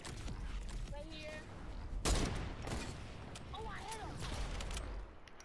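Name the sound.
gunfire nearby in a video game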